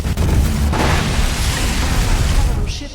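A capital ship explodes in a space strategy video game: a loud, sustained rumbling blast with layered crackling bursts, while a voice speaks over the noise.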